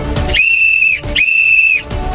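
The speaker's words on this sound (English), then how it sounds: "When you hear me whistle twice while raising this flag" Two long, shrill whistle blasts, each held for most of a second, loud and close with a brief gap between them.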